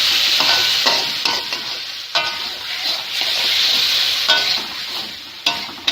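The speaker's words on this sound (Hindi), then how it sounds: "इसमें गोश्त डालेंगे। इसकी हम भुनाई करेंगे।" Dumba (fat-tailed sheep) meat stir-fried in a karahi, a steady loud sizzle with repeated scraping stirs and clanks throughout, no talking.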